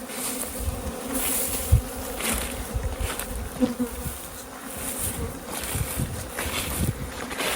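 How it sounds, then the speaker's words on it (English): Honeybees hum thickly around a busy hive, a dense, steady buzz with individual bees zipping close past at intervals, no voices over it. "This big hive is very busy. It might be the one doing the robbing."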